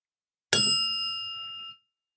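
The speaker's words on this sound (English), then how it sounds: "So when y'all hear that bell, it's gonna be known that somebody is sipping on something." One bright bell ding rings out after a short silence, a crisp metallic strike with a clear ringing tone that fades over about a second before cutting off, close and alone.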